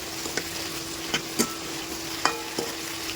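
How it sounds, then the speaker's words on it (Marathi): Cauliflower (gobi) frying in oil in a pan while a cook makes gobi bhaji, a low steady sizzle with several sharp utensil clinks and stirring knocks scattered through, close and moderately quiet, no talking. "तेलामध्ये गोबी चांगली फ्राय करून घ्यायची आहे आपल्याला"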